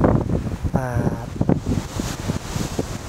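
Strong wind buffets the microphone on the foggy summit of Daecheongbong peak in Seoraksan, a steady loud rumbling roar with gusty swells throughout, and a brief voice-like tone briefly sounds within it.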